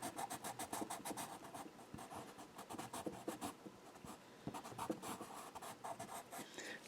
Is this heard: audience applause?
no